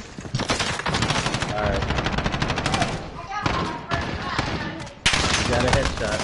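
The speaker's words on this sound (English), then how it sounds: "I'm getting shot from everywhere." Dense automatic gunfire rattles in a Call of Duty Modern Warfare match, with bursts coming close together, brief gaps, then another loud volley, while a player's voice is heard briefly.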